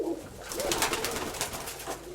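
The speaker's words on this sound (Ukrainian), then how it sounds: "Тут є звичайно і голубоньки." Pigeons coo nearby in a soft, continuous low murmur, with scattered rustling noise over the top.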